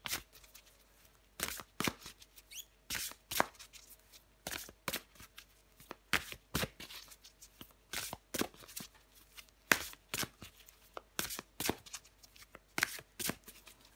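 Tarot cards are shuffled and drawn by hand in repeated quick riffling bursts separated by short pauses, crisp and close, with no talking.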